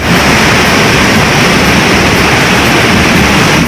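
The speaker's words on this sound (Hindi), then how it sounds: "पानी की आवाज ही किसी के भी दिल में खौफ पैदा कर दे" Roaring floodwater from the Kerala floods rushes past in a steady, loud, unbroken wash of noise, close and overwhelming, with no voices over it.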